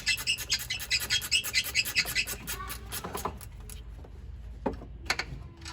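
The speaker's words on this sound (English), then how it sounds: "So much easier with a little ratchet wrench." A small ratchet wrench turning bolts on a Chevrolet Camaro during A/C condenser replacement, with rapid rhythmic clicking ratcheting near the mic, then slower scrapes and metallic taps.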